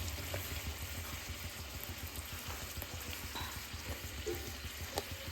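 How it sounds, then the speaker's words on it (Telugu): Puri deep-frying in hot oil and being turned to cook both sides, a soft, steady bubbling sizzle heard close up and fairly quiet, with no talking. "సో ఇలాగా రెండు వైపులా ఫ్రై చేసుకోవాలి"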